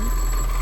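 An alarm clock item rings in the video game Roblox Doors, a brief loud continuous electronic ringing tone held steady without pause.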